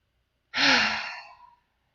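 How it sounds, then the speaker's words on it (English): A single deep breath in and out, taken during a calming breathing exercise. It comes as one close, soft airy exhale of about a second that fades away into silence. "We're actually just going to take 3 deep breaths in and out."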